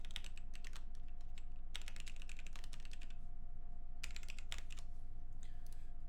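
Computer keyboard typing in bursts of rapid keystrokes with short pauses, fairly close and steady over a low constant hum, no voices.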